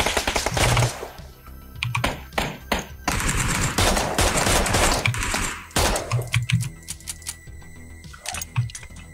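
Gunfire in PUBG, loud rapid automatic bursts in several separate strings with short gaps between them, some closer and heavier, others sharper and clattering, with brief pauses and quieter stretches in between.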